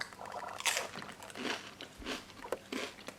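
Crunchy bites and chewing of a high protein, low calorie meal topped with cilantro, several loud crisp crunches close to the mic in an irregular rhythm, no talking.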